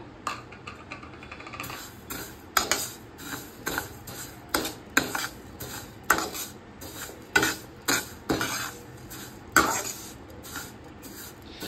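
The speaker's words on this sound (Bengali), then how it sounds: "এবার এই ঘিতে আমি সেমাইগুলি হালকা করে ভেজে নেব।" Vermicelli stirred in ghee in a pan, a run of clear metallic scrapes and clinks from a utensil against the pan at an irregular rhythm, with no talk.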